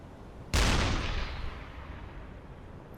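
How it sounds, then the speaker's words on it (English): Armor-piercing shells slamming into a ship's stern in the UBOAT submarine game: after a brief lull, one sudden heavy impact booms out and then rumbles away over several seconds. "So we're getting some armor-piercing shots right into the stern now."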